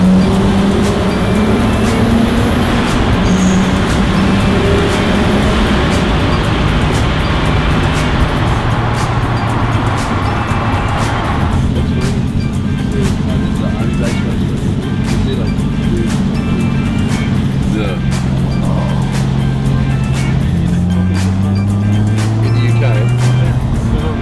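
Steady, loud car engine drone reverberating throughout, with a deep rumbling low end that swells and shifts pitch as the vehicle moves along.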